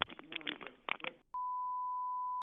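A phone call placed to a bullion dealer's shop: a flat steady tone rings out clearly for about a second, then cuts off, with a brief blip at the very end and people talking before it.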